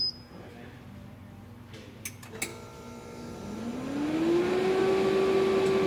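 An HVAC refrigerant recovery machine starts after a couple of clicks, its motor hum rising in pitch and then settling into a steady, loud drone close by.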